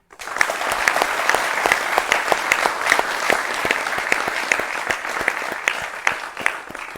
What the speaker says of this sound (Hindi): एक बार हमारी सशस्त्र सेनाओं के लिए बहुत बड़ी तालियां हो जाए।